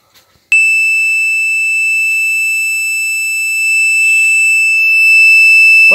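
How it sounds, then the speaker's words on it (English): A loud, high-pitched electronic alarm tone from a laser home security system starts abruptly after a brief soft noise and holds steadily without a break. "Once the battery is connected, it starts continuously beeping."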